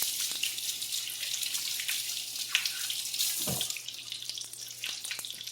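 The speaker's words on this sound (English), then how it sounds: "rinse my finger a little bit" Tap water running steadily into a kitchen sink while a finger is rinsed under it, a close, continuous hiss with a brief splashing change partway through.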